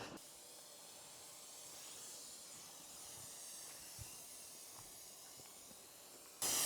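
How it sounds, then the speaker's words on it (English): A foam sprayer pushes pre-wash foam over a TVR Cerbera, a steady, faint hiss that runs unbroken for several seconds, with a few soft knocks and a sharper burst of spray right at the end. "I'm covering the car with a nice bit of foam from the foam sprayer."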